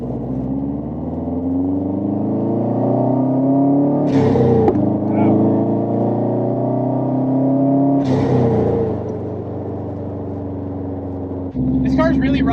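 A Subaru's engine climbs in rising harmonic sweeps as turbo boost comes in hard, heard from inside the cabin, with brief gear-change breaks between pulls.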